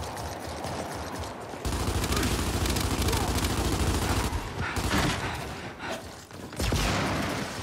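Gears 5 video game combat brings sustained heavy automatic gunfire, loud and continuous for long stretches with brief lulls before it resumes, while voices talk faintly beneath it.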